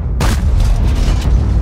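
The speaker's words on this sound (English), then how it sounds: "When I fire a large caliber shell," A large-caliber tank shell fired in World of Tanks, one loud, deep boom that hits suddenly and then rolls out into a long rumbling tail, with no voices over it.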